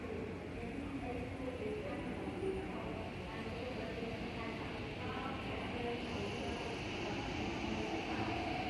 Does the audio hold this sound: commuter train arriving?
yes